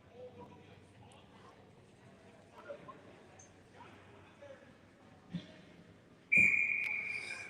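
A sharp referee's whistle blast at a hockey game cuts in loud near the end after a stretch of quiet arena murmur and occasional thumps, with a commentator speaking.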